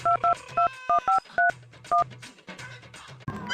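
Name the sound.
telephone being dialed, dialing tones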